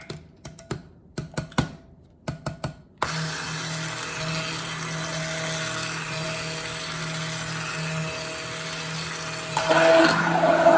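A few sharp clicks and taps, then a blender kicks on and runs steadily through purple cold process soap batter with a droning motor whine, growing louder and harsher near the end.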